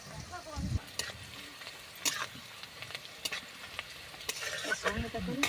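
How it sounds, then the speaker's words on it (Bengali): Frying in a wok while making egg pasta: a quiet sizzle with several sharp spatula scrapes and clatters at irregular intervals. "কড়াইয়ে ভাজাভাজি হচ্ছে এখন"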